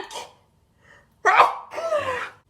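One close, sharp human sneeze follows a faint breath and is followed by a brief after-sound in a quiet room.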